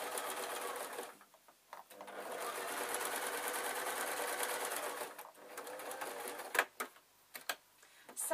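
A sewing machine stitching fabric pieces of a tissue packet cover, a close, fast buzzing whir that runs steadily, pauses, then breaks into short bursts and clicks as the stitching stops and starts.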